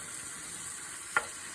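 Kale fries in a pan with a faint, steady sizzle and one brief sharp click partway through.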